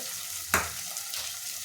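Asafoetida goes into hot oil with one brief, bright sizzling burst over a steady low frying hiss, heard close with no voices.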